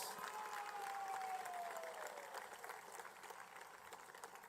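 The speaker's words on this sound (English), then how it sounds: "Please give the leadership of our party and the supporters a resounding round of applause." Sustained crowd applause fills a presidential swearing-in ceremony, a steady dense clatter with a faint gliding tone over it early on, easing slightly toward the end.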